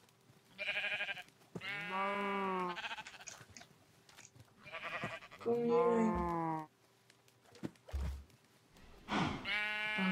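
Minecraft sheep bleat several times in short wavering cries, fairly close and loud, spread across the clip with brief spoken words in between.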